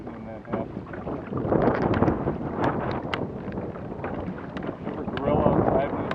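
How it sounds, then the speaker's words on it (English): Wind buffets the microphone on Lake Michigan during a kayak outing, with a strong west wind rumbling and gusting steadily and loudly throughout the clip. "The wind has picked up out of the west"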